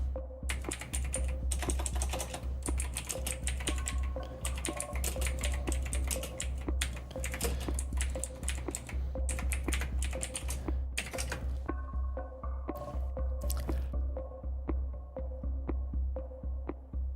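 Steady typing on a computer keyboard, a dense run of close, crisp keystrokes with brief pauses, over a constant low electrical hum, with no talking.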